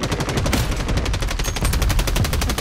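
Sustained automatic gunfire during a Warzone quads battle royale match on PS5, dense rapid shots hammering continuously and loudly throughout.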